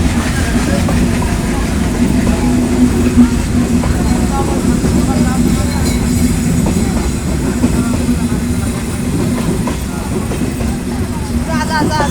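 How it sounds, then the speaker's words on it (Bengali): An Indian passenger train rolls along with a steady low rumble and rhythmic clickety-clack of wheels on rails, loud and close throughout, heard from on board. "এটা হচ্ছে ইন্ডিয়ার ট্রেন"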